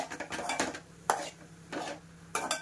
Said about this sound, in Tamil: வெங்காயத்தை போட்டுக்கலாம். போட்டாச்சு. இப்போ நல்லா வதக்கிக்கலாம்.